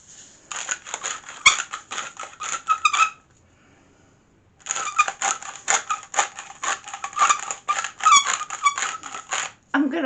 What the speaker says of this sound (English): I'm going to have to invest in a proper non-squeaky pepper mill.